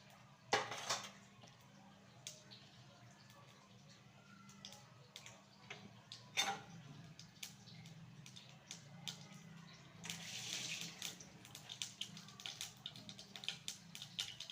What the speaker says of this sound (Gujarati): રાઈ તતડી ગઈ છે.